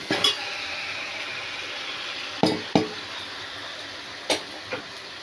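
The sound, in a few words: fish pieces added to simmering fish stew in a pan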